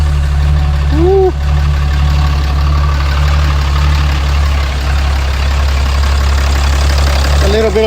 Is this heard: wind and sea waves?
no